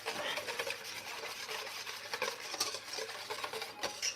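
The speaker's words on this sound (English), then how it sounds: "Let's whisk that in." A whisk stirring acid into a breakfast sauce in a pan, producing a steady close scraping swish with light metallic clinks against the cookware, continuous for several seconds with no talking.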